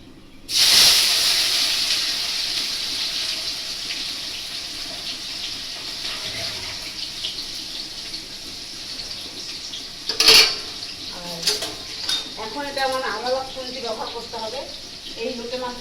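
Chopped onion and cumin hit hot oil with a loud sudden hiss that settles into a steady sizzle, with a metal clank partway through and someone talking over the frying near the end.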